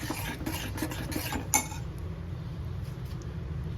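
A utensil stirs dill and sorrel greens in a pot of water for a simple Marathi vegetable dish, giving steady close scraping and swishing with a sharper metallic clink midway, no talk.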